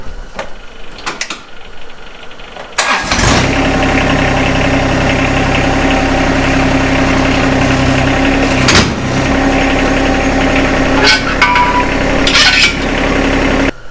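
A tractor with a Terra King material collection system attached runs steadily while its 3-point hitch is lifted, a loud, continuous engine drone with vibration that starts abruptly after a few seconds of quieter noise.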